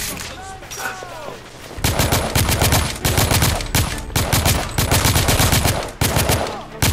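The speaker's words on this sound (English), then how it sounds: "Oh, hey, finally got an assault rifle." Assault rifle fire from The Order: 1886 rattles out in long, loud automatic bursts separated by brief pauses, with a few softer sounds before the shooting begins.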